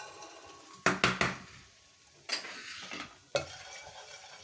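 Garlic hits hot oil in a pan for fried rice, with a few sharp bursts of sizzle and scraping stirs against the metal, close and loud against a quiet kitchen, with no talking.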